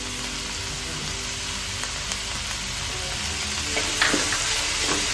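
Curry leaves hiss and crackle as they drop into hot oil in a frying pan alongside ginger and garlic, a dense steady sizzle with faint stirring clinks near the end.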